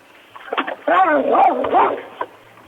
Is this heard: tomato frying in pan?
no